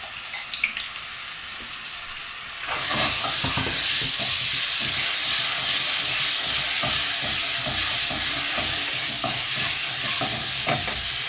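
Garlic ginger paste hitting hot oil for Rajasthani Laal Maas mutton: a sudden loud sizzle erupts after a few quiet seconds, then keeps hissing and crackling steadily with stirring scrapes, close up.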